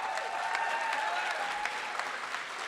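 Audience applause at a senior awards night, a steady wash of many hands clapping together, fairly even in level and somewhat distant, running without a break.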